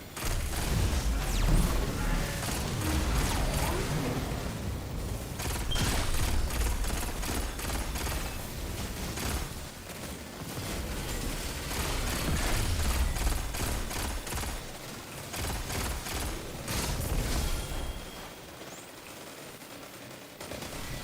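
Dense, sustained automatic gunfire and explosions from the Destiny 2 video game, loud rapid bursts rolling on almost continuously with brief lulls near the end.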